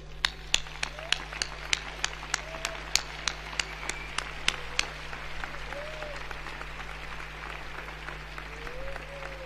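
Audience applause for a volunteer at an award ceremony: a run of distinct claps opening into a steady wash of clapping from the crowd, moderately distant, lasting several seconds with no talk over it.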